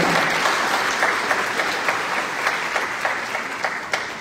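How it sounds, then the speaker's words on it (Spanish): At a graduation ceremony, a crowd applauds the second-place software development award with steady, evenly loud clapping that carries from start to finish, with a few sharper claps standing out and no speech. "¿Se escuchan los aplausos para el segundo lugar?"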